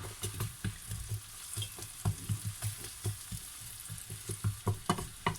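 Butter melting gently in a pan over low heat for fish spaghetti carbonara, a soft sizzle with irregular small pops and spatters, close and quiet, no voices.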